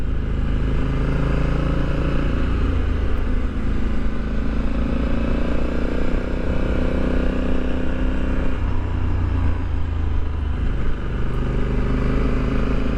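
Harley-Davidson motorcycles ridden two up rumble past on a road, a loud, continuous low engine drone heard from close range with gear and pitch shifts around the middle, mixed with wind; no one talks.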